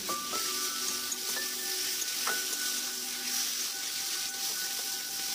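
Aubergine and boiled seeded banana frying together in a pan while a spatula keeps stirring and mashing them; a steady, close sizzle and hiss runs throughout with no voices.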